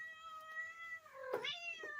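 A pet cat meows clearly and close by, a drawn-out harmonic cry with a rising-falling pitch and a second, shorter call near the end, heard alone with no talking.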